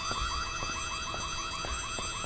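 An alarm rings in the Korean horror video game White Day, a rapid repeating electronic warble pulsing about twice per second, loud and continuous with no talking.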